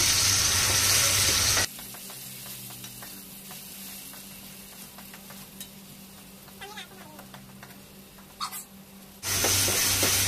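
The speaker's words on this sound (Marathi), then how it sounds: "कांद्याची पेस्ट टाकूया. चांगली भाजून द्यायची." Onion paste is fried in a pan for a chole gravy. A loud sizzle at the start and end frames a quieter stretch of soft crackling and occasional stirring scrapes, close by, with no talk.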